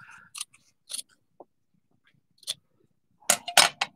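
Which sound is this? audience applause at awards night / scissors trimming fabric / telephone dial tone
scissors trimming fabric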